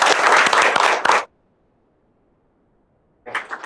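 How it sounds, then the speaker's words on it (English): Loud burst of audience applause for a research team at an academic lecture session, dense clapping for about a second before stopping abruptly, followed by silence and a brief second flurry of claps at the end. "they deserve a big round of applause"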